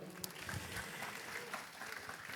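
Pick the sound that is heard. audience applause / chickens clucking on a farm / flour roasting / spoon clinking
audience applause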